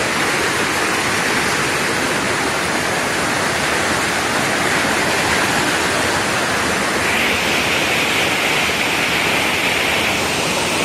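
Water rushes steadily over rocks at Kaniya Falls, a constant loud hiss with no breaks and no voices.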